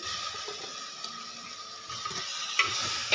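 Prawns fry in a pan with ginger garlic paste for Mangalorean-style prawns sukka, giving a steady close sizzle with occasional clinks from stirring and no talking.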